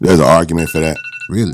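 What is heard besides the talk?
phone alarm going off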